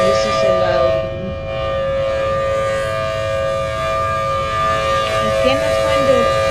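A loud Chrysler air raid siren in the video game Plane Crazy drones continuously with steady, layered tones. Faint voice-like sounds drift underneath it.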